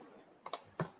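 A few quick keystrokes on a computer keyboard while Python code is typed: three close, light clicks in a brief burst, faint and near, with no speech.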